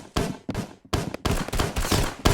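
Gunfire in a shooter video game, a string of loud close shots in uneven bursts separated by brief gaps, with no talk over it.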